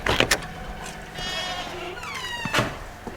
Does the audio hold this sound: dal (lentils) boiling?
no